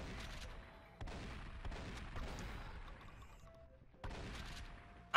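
Sharp gunshots in the video game Blood and Bacon ring out in a few spaced bursts, each cracking loudly then decaying with a rumbling tail over a quiet background.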